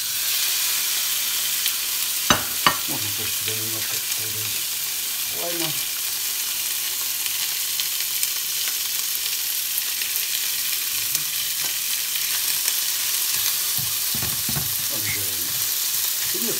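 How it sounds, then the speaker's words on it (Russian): Strips of tuna frying in a hot pan as part of a warm cabbage salad, giving a steady close sizzle throughout with occasional stirring clatter, while someone talks briefly over it. "сейчас, значит, обжариваем тунца"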